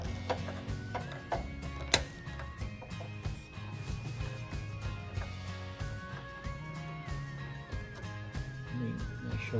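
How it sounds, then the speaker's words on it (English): Small clicks, ticks and ratcheting of a screwdriver removing two screws from a Whirlpool stove plate, close and fairly quiet, with a sharper clack partway through. "you have two screws, and we remove the two screws"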